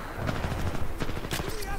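Rapid auto pistol fire in Titanfall 2, a fast rattling stream of small gunshots over dense game noise, loud and continuous with a brief heavier burst near the end.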